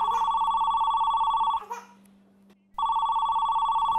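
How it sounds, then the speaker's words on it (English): A telephone rings indoors with loud, steady electronic bursts: one long ring, a short pause of near silence, then the ringing starts again. It sounds close and clear. "Isn't anyone going to get the phone?"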